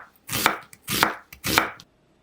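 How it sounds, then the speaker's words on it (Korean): A knife thinly slices onion on a cutting board, three crisp, close cuts at an even pace, each a short burst of crunch, with no talk. "양파는 가늘게 썰어줄게요"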